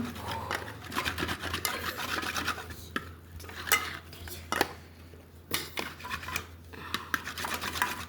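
Saffron strands are rubbed against a bar of soap in a quick series of short, dry scraping strokes, heard up close and fairly quiet.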